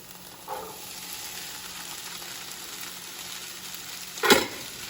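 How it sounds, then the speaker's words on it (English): Defrosted peas, carrots and corn dropped into a hot frying pan for fried rice, giving a steady sizzle with a sharp burst of crackle near the end. "now we're gonna add in this pea, carrot, and corn mixture that we have from defrosted vegetables"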